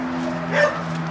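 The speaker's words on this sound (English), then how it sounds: "These dogs are not happy to see me." Dogs bark at a walker near a railway bridge on an old branch line, one brief, fairly close burst of barking over a steady background hum.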